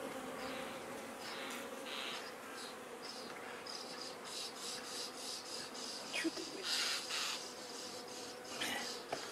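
Carniolan honeybees crowd into their new hive at an apiary, a continuous close buzz with individual bees zipping past the microphone in brief louder passes.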